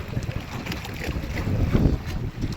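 Wind blows across a fishing boat at sea during blue marlin fishing, a steady, gusty rumble buffeting the microphone throughout with no talking.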